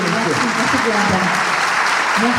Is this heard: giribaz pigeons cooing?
no